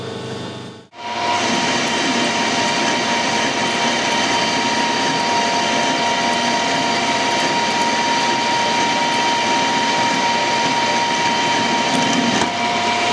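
Steady, loud mechanical whine of a lathe machining a small metal part, a sustained tonal hum and broadband cutting noise after a brief quiet start.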